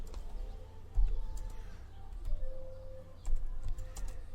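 Clicky typing on a computer keyboard during a Java programming exercise, irregular quiet keystrokes in short bursts over a low steady hum, with no voices.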